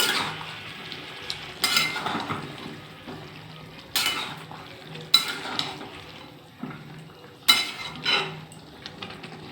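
Paneer curry is stirred in a pan with coriander leaves, with a few sharp spatula scrapes and clinks against the pan over a faint, low simmering sizzle.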